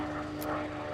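An aerobatic plane flies an unlimited-class competition routine, its engine a steady, fairly faint drone with a tonal hum held throughout the brief moment.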